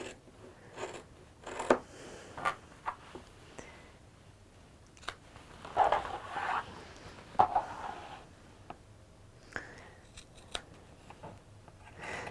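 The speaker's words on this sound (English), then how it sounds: "just go in with a really sharp pair of scissors" Sharp scissors snip through a paper template in a craft workshop, a series of close, crisp cuts and rustles coming in uneven bursts with quiet pauses between.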